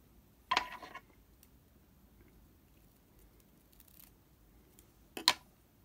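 Scissors snip through tied pheasant tail feather legs for a fly-tying mosquito hawk pattern, two short crisp cuts a few seconds apart, close and quiet against a near-silent background.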